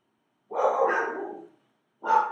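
Dogs bark nearby and loud, one long drawn-out bark followed after a short pause by another, each standing alone against silence.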